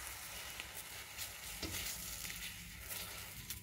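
An egg fries in a new pan with no oil, a soft, steady sizzle with light crackling and a brief scrape as it is flipped, quiet and close with no talking.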